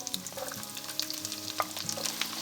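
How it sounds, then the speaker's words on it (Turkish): Onions sizzling as they fry in a pan of hot butter and olive oil, with a steady close crackle, a few spatters and the occasional stir, no voices over it. "Yağ kızdıktan sonra önce soğanları ekliyorum."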